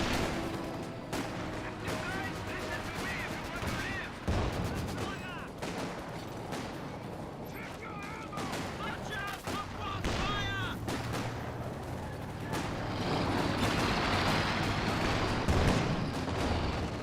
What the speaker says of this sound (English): .25 caliber sniper fires away.